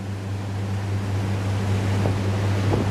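A 32 ft Trojan boat with twin engines running on plane over open water: a steady low engine drone under constant wind and rushing water, loud and close, with faint splashes near the end.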